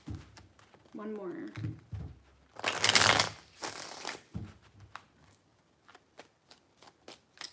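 Tarot cards are shuffled in several close, crisp bursts of riffling and sliding, followed by a few soft taps as the deck is squared, with a voice speaking briefly at the start.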